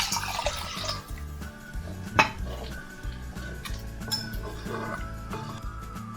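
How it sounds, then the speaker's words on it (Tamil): Water pours into a clay pot of tamarind fish curry, with splashing, liquid sounds and light clinks of utensils against the pot, fairly close and soft. "ஊற்றிட்டு தேவையான அளவு தண்ணி ஊற்றிக்கோங்க"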